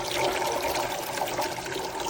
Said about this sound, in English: as long as the water slides down and back into the reservoir